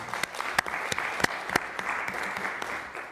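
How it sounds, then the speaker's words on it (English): A round of applause from a crowd at a city council meeting, steady clapping with a few sharper claps standing out, lasting a few seconds. "Can we give them a round of applause?"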